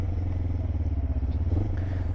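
A Kawasaki ER5 Twister motorcycle pulls away from a stop, its low engine throb pulsing steadily and close, with some rattling clatter over the drone.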